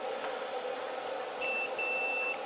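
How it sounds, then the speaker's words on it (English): A multimeter buzzer in diode setting gives two sustained electronic tones, one short and one longer, with a brief gap between them, over faint background hiss. "Diode, alright, there's our buzzer."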